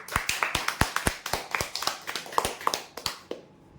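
Applause for a prize draw winner, a handful of people clapping in sharp, fairly quick separate claps that are close and distinct for several seconds before stopping abruptly, with no talk over them.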